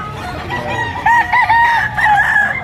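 Several roosters crow in overlapping calls among chickens at a poultry market, a few drawn-out crows rising over a steady background of clucking and crowd murmur, fairly close and loud.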